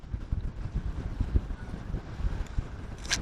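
Cold wind gusts buffet the microphone on Weymouth Pier, a steady low roar with surging blasts and a brief hiss near the end, no voices.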